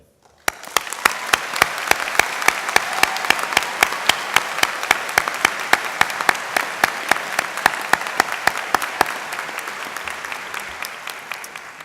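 Sustained audience applause at a university opening convocation welcoming new first-year students, a loud, dense clapping from a large crowd with sharp individual claps standing out, running steadily for over ten seconds.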